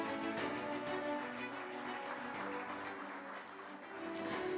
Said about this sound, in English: Big round of applause to GBM